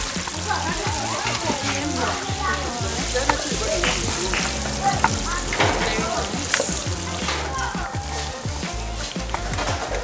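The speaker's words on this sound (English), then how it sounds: "So all the fish are in the oil now." Steady, dense sizzling of fish frying in hot oil, crackling and spattering continuously throughout, close and fairly loud.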